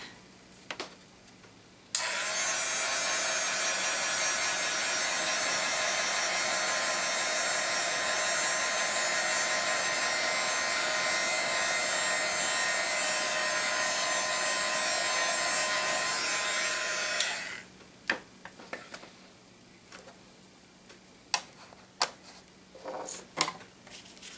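A heat tool blows continuously for about fifteen seconds while heat-setting ink on a stamped card, starting and stopping abruptly, with faint handling clicks before and after.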